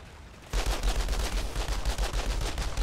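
Rapid gunfire in the Outriders video game, a dense run of overlapping shots that starts abruptly and continues steadily, fairly loud and without talk.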